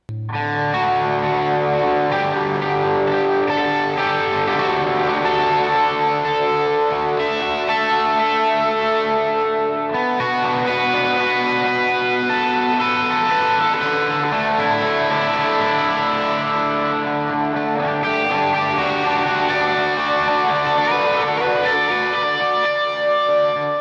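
Electric guitar chords and melody through a Strymon Deco tape delay pedal, drenched in repeating delay echoes, notes trailing and overlapping in a wide, ambient wash.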